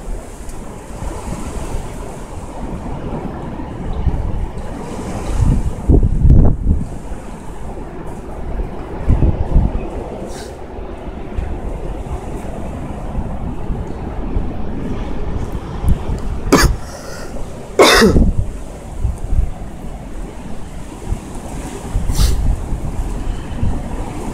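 Strong, gusty wind from a snow blizzard in Amiens roaring steadily with buffeting against the microphone, a few sharp bursts of louder rumble, no talking.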